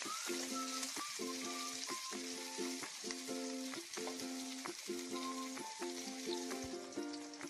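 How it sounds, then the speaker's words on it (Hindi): Chopped onion sautés in a pan with continuous frying hiss, while regular rhythmic clinks and tones repeat across the whole stretch, loud and close. "अब इसमें हम अनियन डालेंगे। इसको हम 2 to 3 मिनट के लिए सौटे कर लेंगे।"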